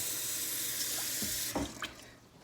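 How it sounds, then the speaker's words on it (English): Water running hard from a kitchen tap to fill a glass, a loud steady gushing hiss that cuts off abruptly, followed by a few soft clinks and splashes. "I'm just going to get me a glass of water"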